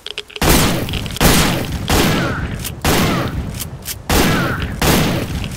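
Sniper rifle gunfire in S.T.A.L.K.E.R.: Call of Pripyat (Misery mod): five loud, sharp shots roughly a second apart, each cracking out and trailing a rolling echo before the next.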